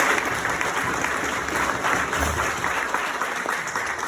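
An audience at a 2024 Veterans Day speech applauds the veterans, loud continuous clapping from a sizable crowd that holds steady for the full few seconds.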